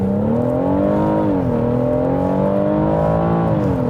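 A small, fast BMW's engine hums steadily close by, its pitch sliding down and then climbing again as it revs under load, with no voices over it.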